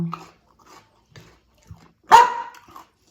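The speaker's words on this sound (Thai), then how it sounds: "คุณนูตัวจิ๋วมาเห่า" A tiny dog gives a few short, sharp barks with gaps between them, one louder yap standing out near the end, heard close in a quiet kitchen while Thai papaya salad is being made.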